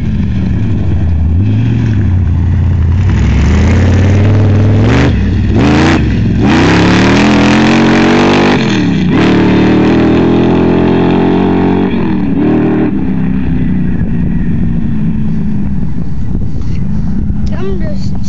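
A sand rail's engine revs loud and close as the clutch is slipped for a wheelie, rising and falling in repeated roaring pulls before settling into a steady drone, with people talking over it.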